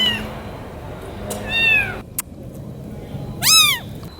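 A scared, hungry feral kitten at a neighborhood feeding station, meowing in several loud, close, rising-and-falling cries with short pauses between them.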